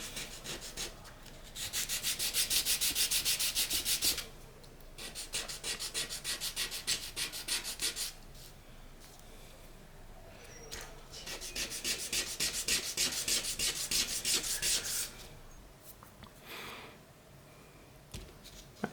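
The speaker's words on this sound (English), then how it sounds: "So we have some sandpaper, and then you just take it and you just clean it up" Sandpaper rubs back and forth on a small wooden katana built from popsicle sticks, a close, steady scratchy scraping in two long bursts with a quieter pause between them.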